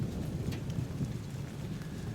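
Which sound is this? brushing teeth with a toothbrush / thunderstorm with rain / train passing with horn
thunderstorm with rain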